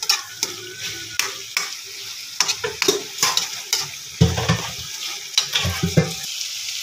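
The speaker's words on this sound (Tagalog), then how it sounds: "Ilagay na natin ang sibuyas kasi luto na yung karne." Sliced onions sizzle and fry alongside cooked pork for Bicol Express, with repeated close scraping strokes of a utensil stirring the pan and bursts of crackling oil throughout.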